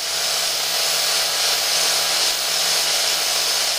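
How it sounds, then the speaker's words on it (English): Angle grinder with a flat disc grinding a chrome-plated Harley-Davidson sprocket guard, a loud continuous hissing whine held steady and close throughout, with no talking. "going over with our flat disc on the end of our grinder"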